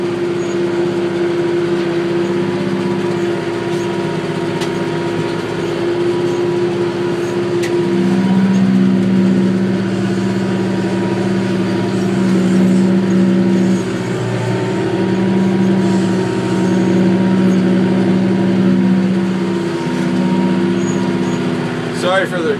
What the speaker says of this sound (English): as you can see, the brush hog does a nice job. It's a 5-foot brush hog.